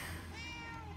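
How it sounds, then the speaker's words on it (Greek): A cat meows once in the Murdered: Soul Suspect video game, a clear, drawn-out mew heard alone and close, with no talk over it. "Γατάκι."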